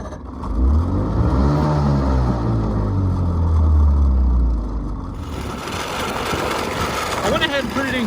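A two-stroke outboard motor fires up and runs loudly with a buzzing, revving drone for several seconds, then drops to a lower, rougher idle, with someone talking nearby.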